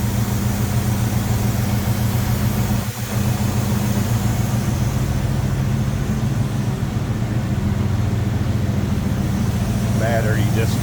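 A 350 V8 in a 1955 Chevrolet 3600 stakebed pickup with Edelbrock intake, HEI ignition and shorty headers, idling steadily and smoothly, a loud, continuous low hum close up for the whole stretch.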